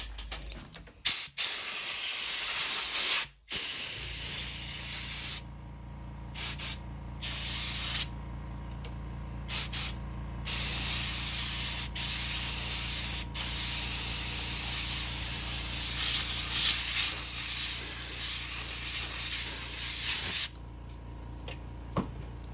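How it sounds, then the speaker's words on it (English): Compressed air blasts through a 1929 Royal Model P typewriter in long loud hissing bursts with brief gaps and a few clicks, close up and continuing for many seconds. "So I'm going to blow this out one more time."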